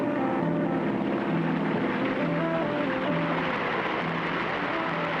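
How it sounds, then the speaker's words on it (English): A seaplane engine drones steadily at close range against a swift river current, its humming pitch wavering slightly, with a broad wash of rushing noise underneath. "We'll keep the engine running to force us against the current"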